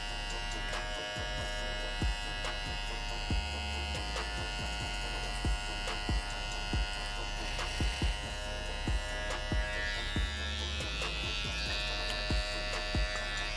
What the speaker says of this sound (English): I'm going to use the T-point of my trimmer